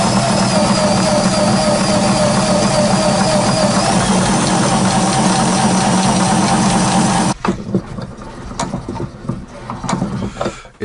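A homemade gear-driven table saw runs with a loud, steady mechanical whine and rattle for several seconds, then cuts off, leaving a quieter room with faint handling noise.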